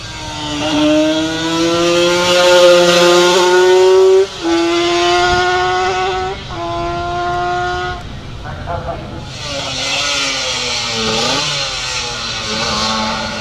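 Suzuki 250 two-stroke twin motorcycle climbing a hill at a hillclimb event, its engine revving hard through rising and falling gear changes, loud and close throughout, with a brief drop in sound midway.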